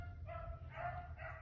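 A five-dog pack of rabbit hunting hounds in Kentucky bays and yips from a distance, faint, overlapping bursts of barking running on over low background noise.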